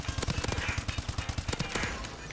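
Automatic gunfire in Call of Duty Advanced Warfare multiplayer: a rapid, evenly spaced burst of roughly twenty close, loud shots rattling off in quick succession.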